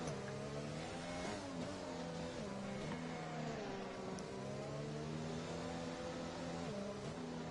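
Race cars in a racing video game hold a steady, droning engine note as they run at a reduced pace behind the safety car, with no talking over the constant hum.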